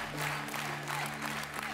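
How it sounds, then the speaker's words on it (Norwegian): Studio audience applause after a tango performance on a dance show, steady moderate clapping from a crowd over a low hum, lasting under two seconds. "En stor applaus til Atle og Marianne."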